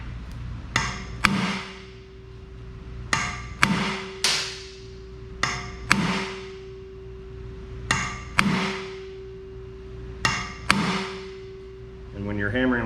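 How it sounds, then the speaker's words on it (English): A hammer strikes pins out of the plate of an Eckold HF100 metal-forming machine in a workshop: about a dozen loud, ringing metallic blows in irregular pairs, each decaying with a sustained tone, followed by a brief rattle at the end. "you're hammering like this"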